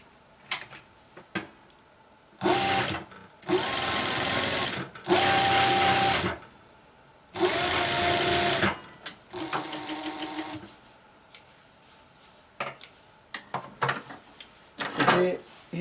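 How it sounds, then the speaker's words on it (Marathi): A sewing machine fitted with a fiber presser foot stitches velvet cloth in several loud, sustained whirring bursts of a few seconds each, separated by pauses filled with clicks and handling noises, close up. "ह्या फायबरच्या फूट लावल्यामुळं आपण आता हे वेल्वेटचं कापड आहे ह्या वेल्वेटच्या कापडाला शिवून पाहणार आहोत"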